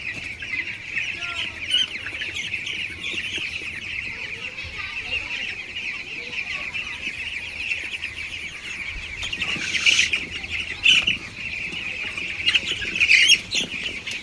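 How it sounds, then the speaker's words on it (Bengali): Broiler chickens on a poultry farm cluck and squawk in a dense, continuous flock chorus, with several louder bursts standing out near the end. "আমাদের মুরগিগুলো কিন্তু আস্তে আস্তে বড় হচ্ছে"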